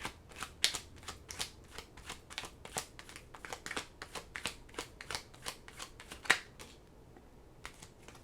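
Oracle cards being shuffled: a steady run of quick, crisp riffling bursts, close and fairly quiet, repeating rhythmically for several seconds with no voices.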